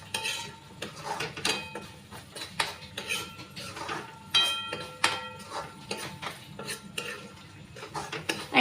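Crab masala being stirred and roasted in a pan, a utensil scraping and tapping the metal repeatedly in an uneven rhythm, close and fairly quiet, with a soft background hiss and no talking.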